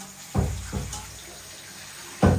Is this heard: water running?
yes